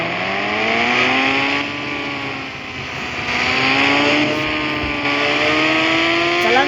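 Motorbike engine in the Indian Bike 3D video game, revving up and down in repeated rising waves as the bike accelerates, steady and loud with no one speaking.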